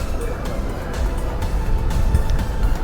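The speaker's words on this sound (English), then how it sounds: "Can hear it rumbling in." A classic car rolls into an outdoor car show, its engine giving a low, steady rumble close by that swells slightly as it approaches.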